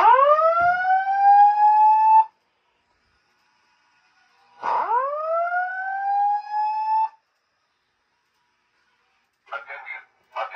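Simplex Voice Evac fire alarm sounding its whoop tone: two loud rising sweeps, each about two seconds long with a gap between, followed by brief bursts of another faint sound.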